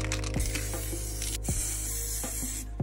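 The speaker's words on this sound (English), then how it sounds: "I prepare the parts that need to be sprayed on and lay down the first coat of primer" A spray can lays a first coat of primer on SNES controller parts in several short, close hissing bursts, each cut off with a brief pause.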